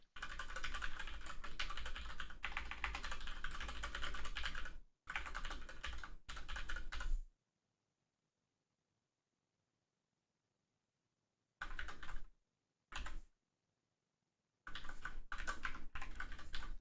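Computer keyboard keys clatter in fast, close bursts of typing separated by long silent pauses, with no voices present.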